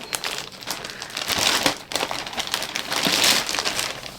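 The plastic packaging of a package of books crinkles and crumples steadily up close, with rustling bursts rising and falling over a few seconds and no talking.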